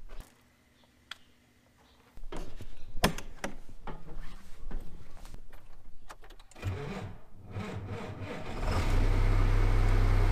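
A cold 7700 farm tractor with a stalk shredder attached cranks over after a quiet start, then its diesel engine catches and settles into a loud, rough idle that grows heavier toward the end.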